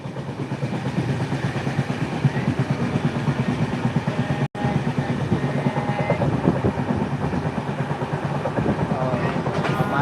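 A long passenger train runs from Muzaffarpur toward Gorakhpur, heard from inside with a steady rumble and rhythmic clickety-clack of the wheels over the rails, continuous and fairly loud, with faint voices in the background.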